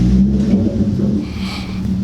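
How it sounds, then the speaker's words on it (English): A Hyundai Genesis Coupe with a manual gearbox pulls out of a home garage, its engine giving a loud, close, low idle rumble that swells slightly, with no talk. "Let me pull the car out of the garage real quick."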